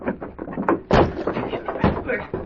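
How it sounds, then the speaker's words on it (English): In an old-time radio drama, an old door is forced open with a heavy thump and bang, and a second crash follows. Both come amid busy noise, with voices close by. "We'll have to force that old door."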